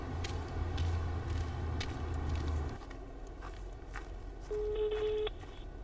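A telephone call goes unanswered: a faint low rumble gives way to a single electronic ring tone near the end, quiet and thin against the background.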